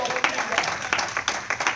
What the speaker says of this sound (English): Come on and give your hand a great big round of applause tonight